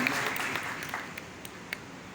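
A church congregation applauds at a Catholic feast for the birth of John the Baptist, a steady wash of many clapping hands that fades slightly toward the end.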